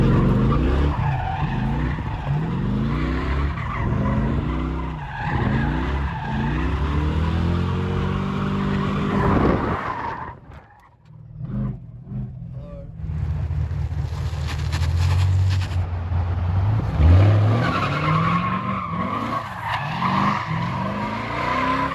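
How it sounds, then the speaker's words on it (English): A Mercedes SL500 with a welded differential doing a test donut, tires squealing and skidding loudly over a revving engine, with a brief lull midway before the screeching and engine roar resume. "First little test donut."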